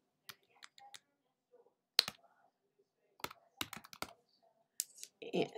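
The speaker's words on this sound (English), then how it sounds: "So I'm going to type my last name." Someone types a last name on a computer keyboard in a quiet room, heard as sparse, close clicks and short bursts of keystrokes separated by pauses, with a bit of soft voice near the end.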